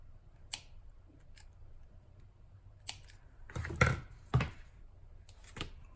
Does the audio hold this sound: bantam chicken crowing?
no